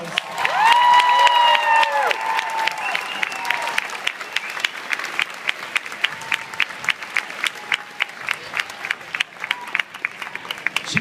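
A crowd at a volunteer meal-packing event applauds its host, with cheers and whoops over steady clapping at first, settling into sustained even applause.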